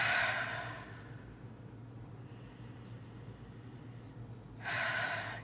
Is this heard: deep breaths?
yes